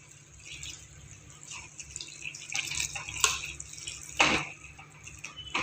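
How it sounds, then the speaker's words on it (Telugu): Water is poured into a pan of meal maker (soya chunk) curry to make the gravy, heard as a close splashing and trickling pour with small drips and a few louder splashes. "మనకి ఎంత క్వాంటిటీ కావాలో అంత వాటర్ వేసుకోండి."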